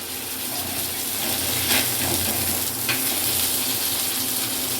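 Fish sizzles steadily in hot oil with curry leaves, a dense, even frying hiss that carries through the whole stretch, broken by a couple of brief scraping clatters as the pieces are turned in the pan.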